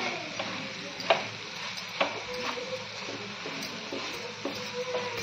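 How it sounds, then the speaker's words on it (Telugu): A sweet mixture fries in ghee in a pan, giving a steady low sizzle broken by scraping stir strokes at irregular intervals, close by and fairly quiet, with no talking. "పైకి వచ్చేదాకా ఇట్లా ఫ్రై చేసుకుంటూ ఉండాలి."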